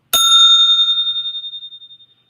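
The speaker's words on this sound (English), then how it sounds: "Let me ring the bell. This is the solar plexus chakra that I'm playing with." A small chakra bell tuned to the solar plexus is struck once, giving a bright, clear ring with a sharp onset and a long shimmering tone that fades out over about two seconds, heard alone and close.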